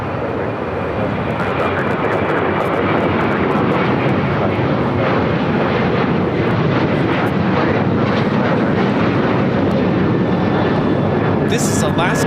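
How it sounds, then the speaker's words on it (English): An Alaska Airlines Boeing 737-900ER departs LAX for Zihuatanejo with a continuous, loud engine roar sustained from start to finish, and a voice can be heard talking underneath it. "1363 taking off to Zihuatanejo on a 737-900ER"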